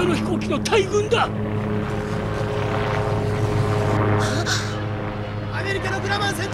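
Loud propeller droning from American Grumman fighter planes passing overhead fills the scene continuously, with people shouting over it at the start and end.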